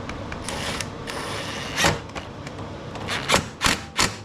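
A ratchet clicks in short bursts while small screws are driven back into a Husqvarna HU725AWD self-propelled mower, with several sharp ratcheting passes close by and a quiet mechanical background between them.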